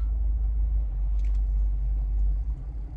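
A big pickup truck's engine rumbles steadily at close range, a deep continuous low drone that dips slightly near the end, with no talking over it.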